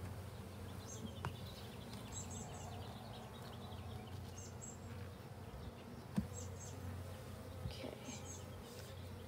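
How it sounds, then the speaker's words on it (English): Honeybees buzzing around an open backyard hive, a continuous close drone of many wings with individual bees passing near, with occasional faint birdsong in the background. "These bees are normally our more fired up hive"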